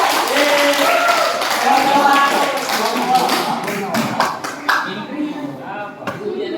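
Students in a sociology classroom clap for group one after their presentation; a brisk burst of hand claps and taps mixed with voices, fading into scattered claps and chatter toward the end.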